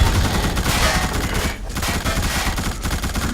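A machine gun in the video game The Suffering fires a rapid, loud, sustained burst of shots, the rattling reports running together densely for a few seconds.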